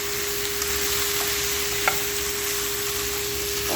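Fish fries in a pan with a steady, close, continuous sizzle and crackle, no voices present.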